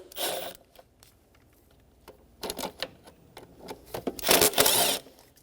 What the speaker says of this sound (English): I'm going to stick with the socket, and I'm going to go around and loosen them.